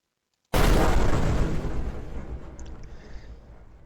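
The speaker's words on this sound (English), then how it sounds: "I've got an explosion sound here." An explosion sound effect for a Unity game scene: one sudden loud boom after a short silence, followed by a long rumbling decay that fades over a few seconds.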